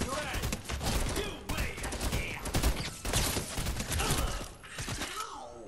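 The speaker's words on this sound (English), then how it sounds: "Oh, I'm using my SMG. No wonder I can't hit." A submachine gun in a video game fires in rapid, choppy bursts separated by short gaps, fairly faint and mixed with background game sounds.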